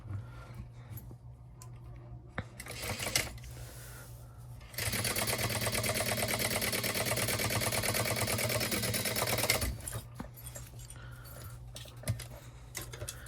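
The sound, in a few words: sewing machine top stitching a fabric pouch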